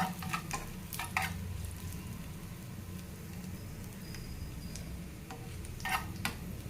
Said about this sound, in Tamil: நல்லா கொஞ்சம் புசு புசுன்னு வர அளவுக்கு பொறிச்சிக்கலாங்க